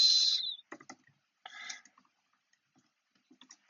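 A few quiet, scattered clicks of keys on a computer keyboard follow a short high electronic beep, with sparse taps separated by silence.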